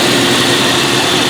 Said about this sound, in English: So as you can tell, the engine runs really well.